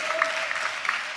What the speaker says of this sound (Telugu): ఆ దేవునికి చప్పట్లు కొడుతూ స్తోత్రాలు చెప్దాం